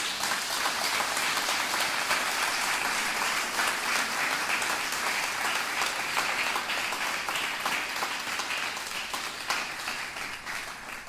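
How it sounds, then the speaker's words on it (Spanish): A church congregation gives a strong round of applause to the Lord, a dense, sustained wash of clapping at steady volume that tapers slightly toward the end. "Me gustaría que le dieras un fuerte aplauso al Señor."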